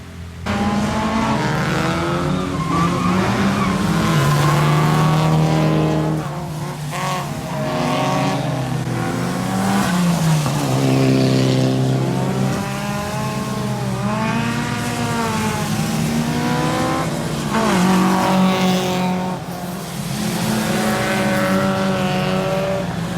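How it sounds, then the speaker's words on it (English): Drift cars rev and slide through a wet, rainy track day at an all-Supra event, engines rising and falling in long howling sweeps with bouncing revs, tires hissing on damp pavement, heard from trackside at moderate distance. "you can already see a few of the drift cars here"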